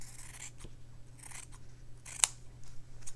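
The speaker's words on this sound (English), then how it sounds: "And then I just cut this to shape, basically to size." Scissors cut light blue fabric to size in a quiet room, with several short, soft snips spaced irregularly over a few seconds, one slightly sharper than the rest.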